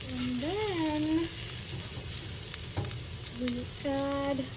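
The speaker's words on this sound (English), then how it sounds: "we add a little butter for the sizzle" Chicken fajita sizzles in butter in a pan for a homemade restaurant-style sizzler, a steady frying hiss with stirring, overlaid by background music tones and a brief knock.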